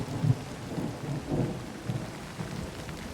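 Minecraft rain falls steadily, with soft low rumbles of thunder rolling underneath; the storm sounds muffled and fairly quiet, with no voices.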